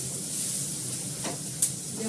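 Onion frying in oil in a pan alongside eggplant over a raised gas flame, a steady close sizzle with a few stirring scrapes and one brief sharp clink.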